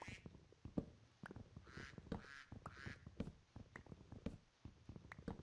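Ducks in the video game Minecraft quack in a quick, irregular series of short, clipped calls, fairly faint, with a few footstep-like taps between them.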